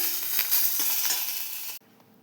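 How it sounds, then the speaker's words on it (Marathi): Sesame seeds, garlic and curry leaves roast in a hot pan with a bright, busy sizzle and light stirring scrapes, which cut off abruptly to a faint quiet near the end. "आता जरा तीळ भाजून घ्यायचे"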